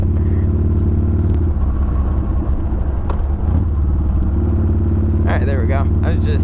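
A Harley motorcycle engine rumbles loud and close throughout as the rider cruises and downshifts on California roads, with the exhaust note shifting in pitch partway through.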